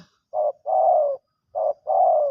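A dove-like bird gives a cooing call: a short note, a long one, a pause, then another short and long pair, close and alone.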